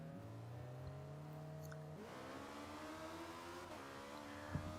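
A Renault 5 Turbo 2 engine in the racing game Forza Horizon 2 hums quietly with a steady pitch, then shifts audibly about halfway through as its tone climbs again, heard alone at low volume.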